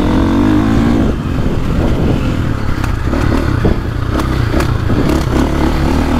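A 2024 450cc dirt bike, a Beta 450RX or KTM 450, pulls hard in third gear on a soft map, its loud close engine roaring continuously with clattering and scraping from the terrain over the throbbing drone.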